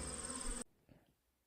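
Honey bees buzz around a backyard hive in a dense, close, steady hum that cuts off abruptly, leaving faint background sound with a brief soft rustle.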